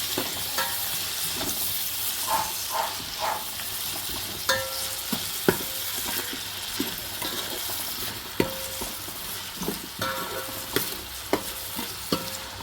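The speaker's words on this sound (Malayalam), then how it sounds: "ഉപ്പിട്ടിട്ട് നല്ലപോലെ ഇളക്കി കൊടുക്കണം." Salted onions fry for chicken biryani, with a steady sizzle under repeated spoon scrapes and clinks against the pan at an irregular pace, close and without voices.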